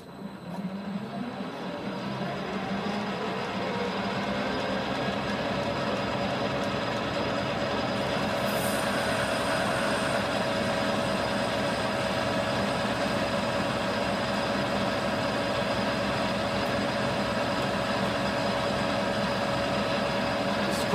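A metal lathe cuts 4130 chromoly steel while making an insert dovetail cutter, a steady machine drone with tonal whine that holds loud and continuous throughout, no voices.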